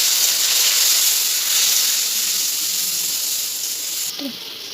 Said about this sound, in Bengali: এবার ভালোভাবে সবটাকে একসঙ্গে কষিয়ে দিই। একটু জল দিয়ে দিলাম।